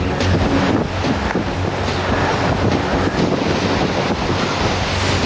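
Strong wind gusting over the flooded Ganges river beside a nearly submerged temple, a steady loud roar of wind buffeting the microphone with surf-like wash throughout, no voices.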